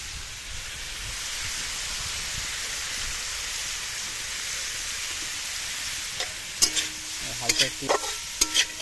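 Chopped garlic and raw onion fry in a chicken soup pot with a steady hissing sizzle, and near the end come several louder clatters of stirring and scraping while a voice speaks briefly.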